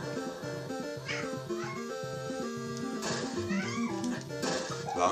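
A cat meows and caterwauls repeatedly at close range over a steady droning background with game music and sound effects from an ice hockey video game, with a few loud, drawn-out calls toward the end.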